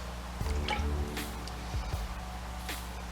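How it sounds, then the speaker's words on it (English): A pork loin is lowered into a liquid brine, giving a few close, wet squishing and sloshing sounds with small drips, over a low background hum. "Now let's add this to our brine."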